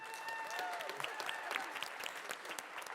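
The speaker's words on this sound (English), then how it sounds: "And perhaps a little bit less applause for the dads who are trailing behind with 16 points." Applause rises from the audience at a family quiz event, a lively wash of many hands clapping that holds steady, with faint voices in the background.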